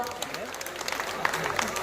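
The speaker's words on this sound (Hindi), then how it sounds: "समझ गए हो तो ताली बजा दो एक बार" An audience claps during a live stage talk, a dense patter of many hands mixed with a speaking voice, steady and fairly close throughout.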